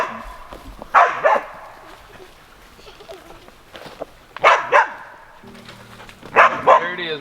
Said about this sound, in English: the dogs are just going crazy about something